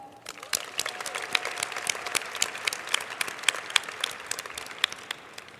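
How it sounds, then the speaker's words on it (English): An audience at a closing ceremony dinner bursts into sustained, even applause of many hands that holds steady and tapers slightly toward the end, with no talking over it. "So can we have a big applause for Sodexo?"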